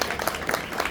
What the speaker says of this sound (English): Can you please clap for that?